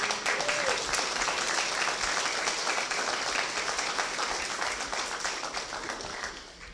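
Warm applause fills the room at a portrait unveiling ceremony, continuous clapping from a sizable audience at moderate distance that slowly tapers off at the close.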